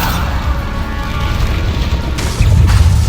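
Bombarda blasting spell explosion in Hogwarts Legacy, heard as a continuous low rumbling boom that swells louder near the end, with dense game combat noise throughout.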